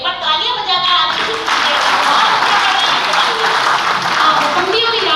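An audience claps warmly for a live Hindi song performance, with steady dense applause filling the hall throughout and a voice faintly audible beneath it.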